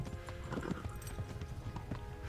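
Close, rapid hoofbeats of a galloping horse in the medieval game Kingdom Come: Deliverance, with a steady drumming rhythm and no talk.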